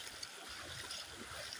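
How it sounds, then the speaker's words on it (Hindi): Floodwater surges strongly beneath a village bridge as a continuous, loud rushing roar with gurgling turbulence close by. "कितना जोर से पानी लगा हुआ है, बह रहा है"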